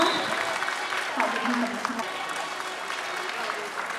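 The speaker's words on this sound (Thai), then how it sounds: "ขอเสียงปรบมือให้กับนักกีฬาด้วยนะคะ" An audience applauds tennis athletes at a Southeast Asian Games gold-medal celebration, a dense, steady patter of many hands clapping at close range that holds for the whole stretch, with a voice talking over it.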